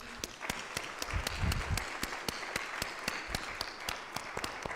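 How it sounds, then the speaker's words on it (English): An audience claps steadily, a spread of individual hand claps forming sustained applause, moderately distant, with a brief low murmur partway through. "Please join me in applauding them before we terminate this session."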